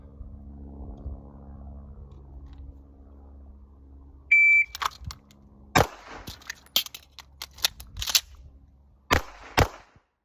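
Walther PDP pistol during a crisis reload in a cold start shooting drill: a timer beep, then reload clicks followed by a few sharp, close gunshots in irregular pairs, with no talking.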